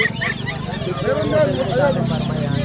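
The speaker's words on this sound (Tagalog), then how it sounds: "tingnan natin mga manok na cute" Hens clucking in short, busy bursts close by, with people talking over them throughout.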